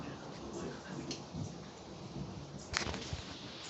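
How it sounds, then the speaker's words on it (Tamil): Heavy rain pours steadily inside a house during a windy storm, a dense hiss of water with a brief louder burst near the end and a voice faintly underneath. "பாருங்க வீட்டுக்குள்ளேயே மழை பெய்யுது"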